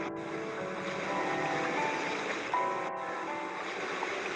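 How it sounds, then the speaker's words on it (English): Ocean waves wash steadily through a music track, a continuous surf-like rush with faint tonal notes from crunchy piano layered above. "We got like some ocean wave sounds in there with some really crunchy piano."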